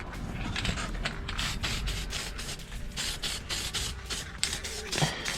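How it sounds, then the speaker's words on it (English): Anti-rust paint sprayed onto engine mounts during a motor install, heard as a string of close, hissing spray bursts with a rough, rubbing texture running throughout. "So we're gonna give her a little spritz now."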